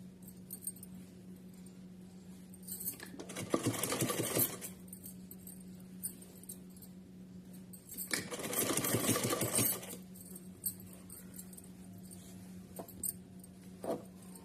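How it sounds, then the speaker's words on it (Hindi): A sewing machine runs a straight seam along a folded, tucked fabric edge on a small Laddu Gopal outfit, with two clear bursts of steady whirring stitching separated by quiet gaps. "तो चलिए इसको सिलते हैं।"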